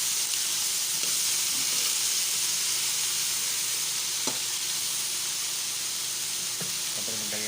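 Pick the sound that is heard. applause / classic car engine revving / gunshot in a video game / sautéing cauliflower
sautéing cauliflower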